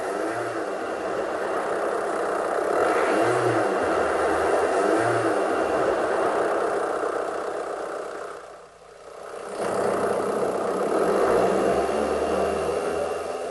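A car engine runs steadily at idle, then the revs rise and drop with a brief dip in the middle before settling back to a continuous hum, with no talking.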